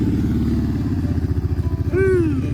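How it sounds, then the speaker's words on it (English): Four-wheeler engine idling and chugging in rapid rhythmic pulses while pulling kids around a snowy yard, close and fairly loud, with a short vocal cry rising over it near the end. "We were racing around the yard, pulling the kids in the four-wheeler"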